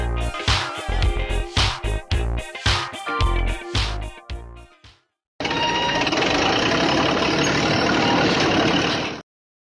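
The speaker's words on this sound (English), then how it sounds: "A dump truck is a heavy-duty vehicle designed for transporting and unloading materials" A heavy-duty dump truck engine idles with a loud, rhythmic knocking pulse, then after a brief gap a steady, dense rumbling roar continues before it stops.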